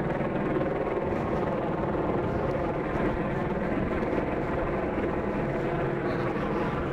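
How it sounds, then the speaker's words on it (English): A police helicopter flying overhead during a night raid in Los Angeles, a steady loud rotor and engine roar that drones on without a break. "If we see where the chopper is with the spotlight, that's the one that's been following the mass."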